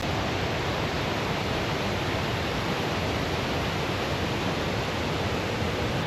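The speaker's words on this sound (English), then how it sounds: "So at the waterfall, the river Amblève drops down about 15 meters" The Coo waterfall on the river Amblève in the Belgian Ardennes, where the river drops about 15 meters, gives a steady, dense roar of rushing water, loud and unbroken throughout.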